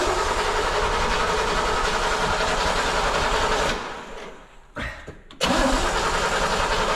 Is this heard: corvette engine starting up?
yes